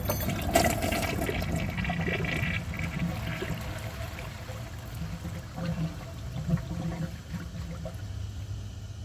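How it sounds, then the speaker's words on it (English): A 2002 Kohler Gabrielle toilet is flushed, and the water rushes loudly and steadily through the bowl, then settles into a continuous refilling flow and trickle with no talking. "The tank's almost full, so let's give it a flush."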